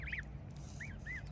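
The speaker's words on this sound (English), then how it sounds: "They're baby geese." Baby geese peeping on a canal: a few short, high chirping calls spaced apart, the first a quick double, over a low steady background hum.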